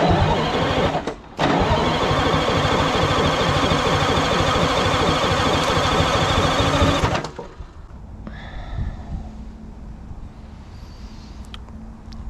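A Detroit Diesel 6V71 engine on a restoration truck cranks with a loud, rapid rhythmic chug for about seven seconds, with a brief pause near the start, then stops, leaving quiet shop noise and faint movement.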